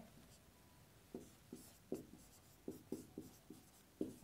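A teacher writes on the board during a physics lesson, producing a series of quiet, rhythmic strokes and taps up close.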